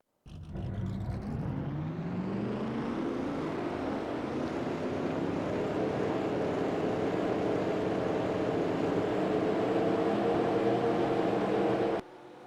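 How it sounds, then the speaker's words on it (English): Race car engines fire up together in a NASCAR racing video game at Michigan, a dense, loud, continuous roar that builds and holds for about twelve seconds before cutting off abruptly. "Drivers, start your engines!"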